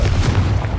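Confringo spell blast in Hogwarts Legacy, a short, loud, deep boom with a rumbling low-end punch, heard alone without talk.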